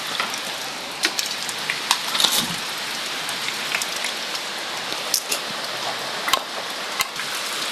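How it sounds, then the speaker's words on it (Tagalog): Heavy rain pours steadily outdoors during a storm in Laguna, a dense constant hiss with scattered sharper drip and tick impacts on nearby surfaces. "Yan na, malakas ng ulan."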